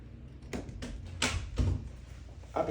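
A door is handled and shut, with several separate knocks and a heavier thud partway through, close by and otherwise quiet.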